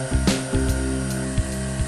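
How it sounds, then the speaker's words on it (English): A Lamb high-speed weft knitting machine runs with a steady mechanical hum and strong tonal drone, punctuated by periodic sharp clicking thumps from the needles, loud and close with no voices. "Here's a preview of Lamb Knitting Machine's new high-speed weft knitter."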